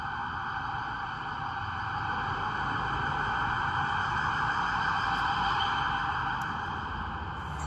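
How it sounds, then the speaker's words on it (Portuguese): An ambulance siren wails steadily and loudly as the vehicle passes nearby, its tone holding strong throughout with no voices over it. "ambulância passando, a professora teve que cortar um pouquinho"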